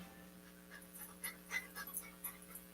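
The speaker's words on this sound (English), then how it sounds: "To some, this might sound like a typical family dog." A family dog panting in quick, soft breaths, broken by a few thin, high whimpers, quiet and close against a low steady hum.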